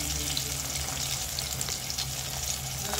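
Pieces of fish frying in shallow oil in a pan, a dense, steady close sizzle with faint crackles, continuous and fairly loud, no voices.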